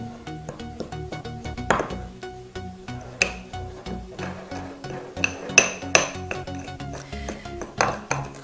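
Dry ingredients being mixed into coconut oil in a bowl, with repeated clinks and knocks of a utensil against the bowl, close and irregular, including a few sharper louder taps.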